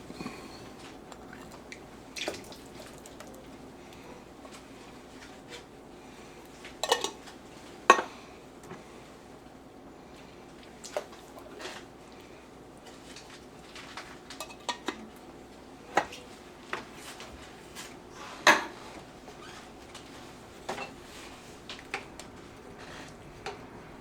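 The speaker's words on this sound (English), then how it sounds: "And we're going to add the beans now." Beans go into camp chili in a cast iron pot, giving scattered clanks, scrapes and soft plops of metal utensils against the iron at close range, spread irregularly with no talking.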